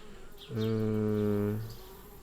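A bee in the Anna's Quest video game gives a single steady, droning buzz lasting just over a second, loud and close against faint background noise, with no voices.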